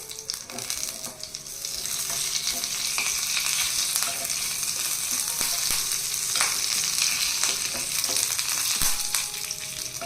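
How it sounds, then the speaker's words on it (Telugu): Garlic, dried red chilies, cumin and curry leaves fry in hot oil as a tempering for fenugreek-leaf dal, making a dense, continuous close-up sizzle and crackle that stays loud and even throughout, with no voices. "ఒక స్పూన్ జీలకర్ర వేసి ఇవన్నీ దోరగా వేగనివ్వాలి ఇదంతా బాగా వేగిన తర్వాత కరివేపాకు వేసుకోవాలి"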